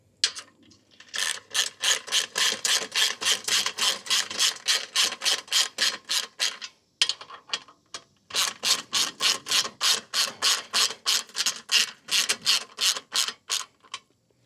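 Ratchet tightening 16mm steel bolts into an aluminum e-bike hitch rack assembly, a steady run of sharp rhythmic clicks from quick back-and-forth strokes, with one brief pause midway; close and alone.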